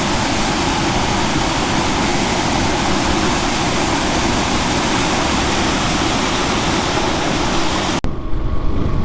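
A roadside waterfall on a hill route between Goa and Kolhapur in Maharashtra, a loud dense unbroken rush of falling water that cuts off abruptly near the end.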